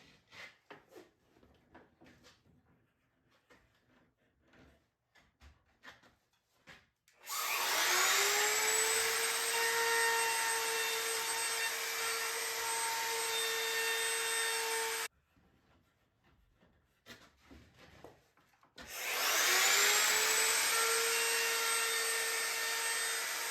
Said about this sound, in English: I will begin routering the edges on it.